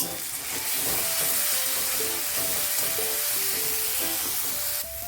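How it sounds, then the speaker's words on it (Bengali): Spices with green chilli and cumin powder sautéing in a pan, a steady close sizzle with faint stirring scrapes running throughout, a soft musical tone drifting underneath. "এবার মশলাটা ভালোভাবে কষাবো"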